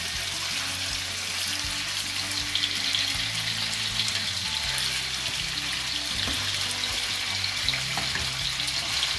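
Chicken frying in a pan for a tomato-cream chicken skewer dish, a constant close sizzle and crackle with low clatter underneath, steady throughout and no talking.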